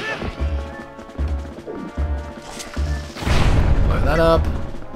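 A bomb goes off in Zelda Twilight Princess HD: a loud, broad blast with rumbling decay follows a run of rhythmic thuds and game music.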